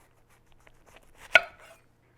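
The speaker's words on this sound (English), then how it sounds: "We're going to slice it up." A knife slices through a baby head of napa cabbage on a cutting board: one crisp, sharp chop preceded by faint soft cuts, close up and alone.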